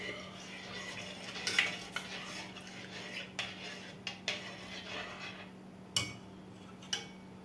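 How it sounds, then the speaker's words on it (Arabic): Spoon scraping and clinking against a pot while custard is stirred continuously on the stove, soft irregular taps over a steady low hum. "نقلب بقى تقليب مستمر لغاية عندي ما القوام يتقل"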